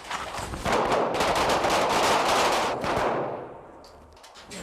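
Firearms fire in rapid, dense volleys at a Vermont police academy training range, loud and close bursts of overlapping shots that taper off into a few fainter reports; no one talks.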